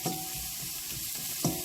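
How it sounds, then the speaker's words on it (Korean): Cheongyang chili peppers stir-fried in hot oil, a steady close sizzle running throughout with soft stirring scrapes and a brief louder crackle near the end. "자, 기름에 달달 볶아주세요."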